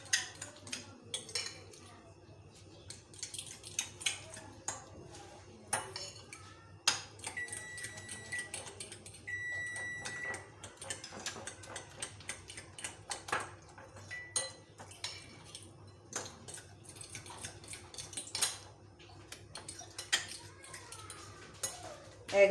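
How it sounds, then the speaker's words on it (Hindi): Eggs are beaten with a utensil in a bowl, giving irregular bursts of quick clinking and tapping against the bowl, with short pauses between them and faint background noise. "एग हमारे बीट हो गए।"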